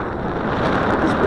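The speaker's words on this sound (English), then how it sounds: "This wind is real strong today, folks." Strong wind buffets the microphone during an outdoor flight of a Tarantula 1505 drone, a steady loud roar of rumbling gusts filling the whole moment with no voice over it.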